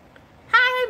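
A cat gives one short, clear meow close by, beginning midway through and holding a steady pitch before tapering off, after a near-silent start.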